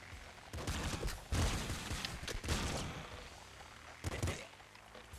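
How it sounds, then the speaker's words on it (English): Laser pistol shots in Nuclear Throne, several short bursts of game gunfire in uneven clusters with faint background effects, fairly quiet overall. "Laser pistol"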